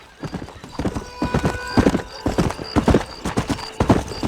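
Rapid clip-clop of horse hooves galloping in Red Dead Redemption, close and loud, with a horse whinnying briefly; the steady, synthetic rhythm suggests game audio.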